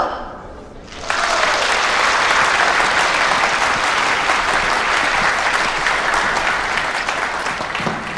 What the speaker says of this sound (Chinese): 下面就让我们用掌声欢迎